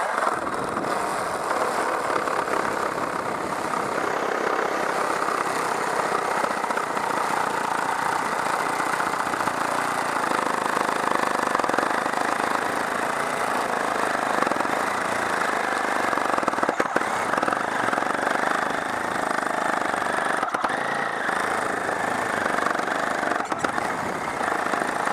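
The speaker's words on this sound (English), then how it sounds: "Here we go, cutting through." A power saw cuts through cedar dock boards with a loud, continuous motor whine and rough cutting noise that holds steady for the full stretch, close by and without speech.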